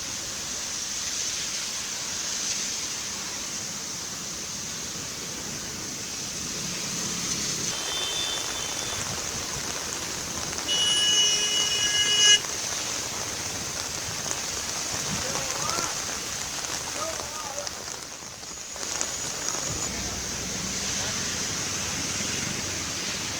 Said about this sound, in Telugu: ఇవాళ ఉదయం నుంచి పలు ప్రాంతాల్లో తేలికపాటి వర్షం పడుతోంది